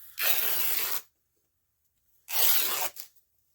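Fabric being cut to remove the selvage, two rough ripping bursts of roughly a second each with a short tail on the second, close and separated by silence.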